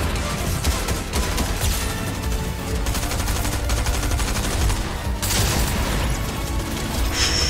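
Rapid automatic fire from a Stinger Mythic SMG in the video game Fortnite: a dense, continuous stream of loud, close shots that barely pauses over several seconds, with no talking.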